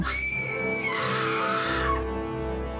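A woman lets out a sharp scream of fear in a horror audio drama set in a haunted jungle ruin. It is one loud, high, wavering cry lasting about two seconds and is heard alone.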